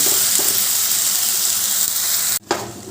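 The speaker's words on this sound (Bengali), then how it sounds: "এই যে পেঁয়াজ রসুন আর টমেটোর পেস্টটা দিয়ে দিলাম এগুলো ভালো করে কষিয়ে নেবো" A paste of onion, garlic and tomato fries in a pan for a chicken curry with lemon leaves, a loud, dense, steady sizzle that briefly drops out near the end before surging back, no voices.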